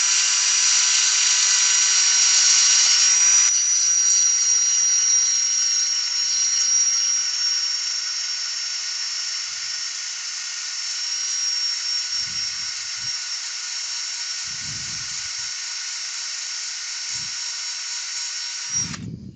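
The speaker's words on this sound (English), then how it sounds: "So, piece of 80 grit, and we'll just sand this down." A Laburnum wood bowl is sanded with 80 grit sandpaper against a steady, high, whining motor drone that holds loud and close throughout, with a few faint low knocks near the end.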